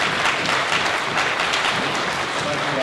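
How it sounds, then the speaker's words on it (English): An audience at a veterans' convention plenary session breaks into loud, sustained applause, dense clapping filling the hall evenly from start to finish. "let me give a big round of applause to it."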